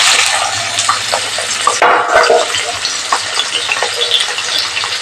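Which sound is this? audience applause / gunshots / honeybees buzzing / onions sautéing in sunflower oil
onions sautéing in sunflower oil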